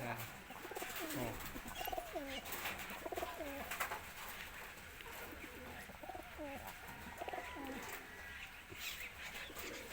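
Pet pigeons coo repeatedly in a steady, rhythmic series of soft, throaty calls, fairly close, over a continuous background hiss.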